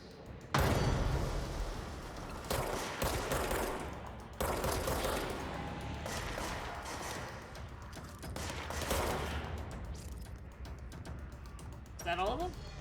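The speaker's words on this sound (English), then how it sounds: "Where are you guys shooting from?" Enemy gunfire in the video game Control rattles in repeated loud bursts and clusters across the whole stretch, with players talking over the shooting.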